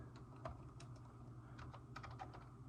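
Computer keyboard being typed on, entering SQL: quiet, irregular clicks of keystrokes in short bursts over a low steady background hum, with no voices.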